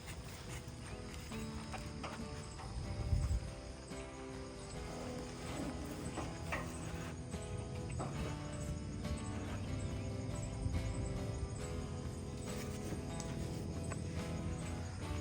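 A horse on a ranch walks with steady, fairly faint clip-clopping hooves under a constant outdoor background, with no talk.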